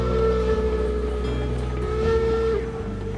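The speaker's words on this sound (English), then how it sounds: "let's blow the whistle again" A steam locomotive whistle in the Railroads Online railway game sounds one long, loud, steady blast that holds for about two and a half seconds over a low rumbling engine, then stops abruptly.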